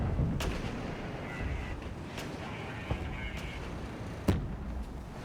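Distant artillery and gunfire rumble through a battle in a WW3 strategy video game, with scattered thuds and a few sharper bangs over a steady low background roar.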